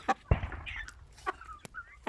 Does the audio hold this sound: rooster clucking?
yes